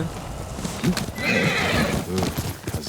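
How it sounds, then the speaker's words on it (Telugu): A horse in the Ghost of Tsushima video game whinnies loudly while its hooves clop in a quick rhythm, the neigh rising clearly midway through the short burst of gallop sounds. "ఓకే గుర్రం వేసుకెళ్ళిపోదాం"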